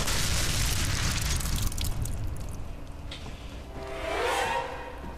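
A deep rumbling explosion in the video game F.E.A.R. 3 booms and slowly decays, followed by scattered debris crackles and a second, softer burst.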